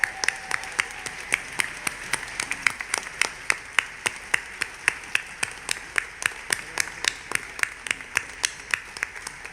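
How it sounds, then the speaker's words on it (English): Steady, evenly spaced claps ring out in a crisp rhythm, sounding like a small group clapping together in an auditorium at a teachers' awards ceremony. "Let's give them all a round of applause."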